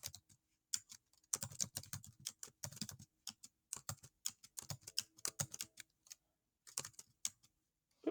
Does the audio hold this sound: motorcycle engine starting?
no